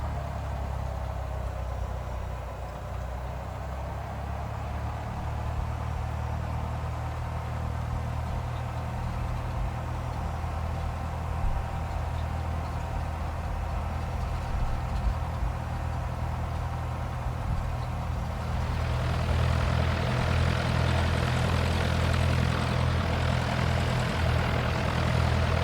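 A simulated Cessna propeller engine drones steadily as the plane taxis at Innsbruck in the X-Plane flight simulator, a low continuous hum that swells louder and rougher near the end.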